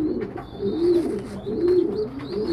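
Pigeons and feathering squabs in a loft give steady, overlapping soft cooing, close and continuous, with occasional faint chirps and light rustling in the background.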